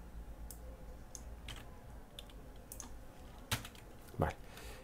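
Someone types on a computer keyboard, scattered light key clicks with a couple of sharper taps near the end, faint and close against a quiet room hum.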